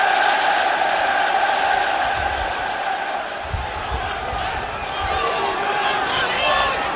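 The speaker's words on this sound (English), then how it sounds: "the first opportunity for the crowd to open their throats and roar their encouragement for Everton" Everton supporters roar encouragement at a corner during an FA Cup quarter-final against Middlesbrough, a dense, sustained crowd roar swelling steadily throughout with a commentator's voice over the top.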